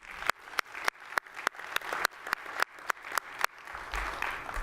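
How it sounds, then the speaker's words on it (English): At an alarm industry association's general session, an audience claps in a slow, regular beat, about a dozen distinct, sharp claps spaced evenly, before loosening into a softer, scattered patter near the end. "If you guys could stand up and get a round of applause too."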